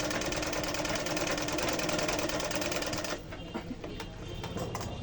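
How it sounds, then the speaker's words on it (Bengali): A sewing machine, just repaired, stitches fabric with its presser foot lowered: a loud, steady, fast mechanical whirring and clatter for about three seconds, then it stops and only a faint hum remains. "ফিট নামাই দিলাম, এখন আমি সেলাই করব।"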